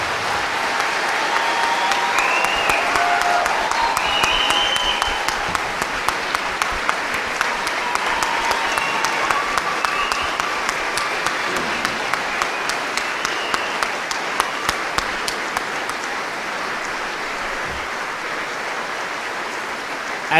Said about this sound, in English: Please give all these very deserving soldiers of Echo Battery a round of applause.